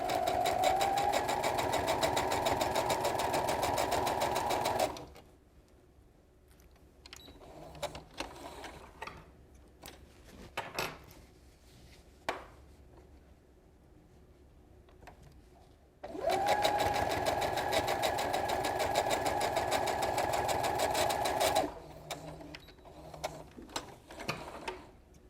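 A sewing machine stitches twin-needle quilting in two long, steady, loud whirring runs, each followed by quieter stretches of small mechanical clicks and handling sounds, close up with no talking.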